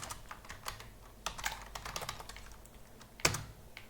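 Code is typed on a computer keyboard, with irregular close key clicks in quick bursts and one louder clack near the end, no voice present.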